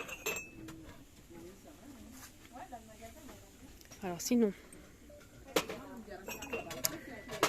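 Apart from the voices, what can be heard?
ceramic cups clinking while being handled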